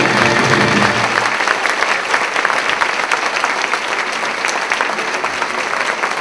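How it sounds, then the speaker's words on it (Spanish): Sustained applause fills a concert recital held at the Sarita Colonia prison, a dense and steady wash of clapping from a large audience that keeps going at an even level throughout. "El aplauso para el penal de Sarita Colonia"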